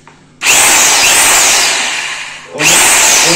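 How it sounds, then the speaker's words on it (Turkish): A heavy hammer drill runs in hammer drilling mode with no workpiece, giving a loud, harsh, close-up buzz that starts abruptly, dips briefly and starts again. "Bu darbeli delme modu."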